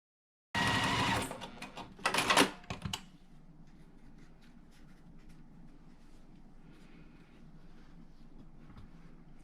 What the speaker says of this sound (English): let's go ahead and sew that